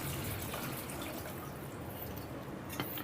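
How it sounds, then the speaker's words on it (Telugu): Water pours into a pan of vegetable curry in a steady, faint splashing stream under a soft hiss, with no voices. "ఇప్పుడు మనం ఒక పావు లీటర్ వాటర్ కూడా యాడ్ చేసుకుందాం."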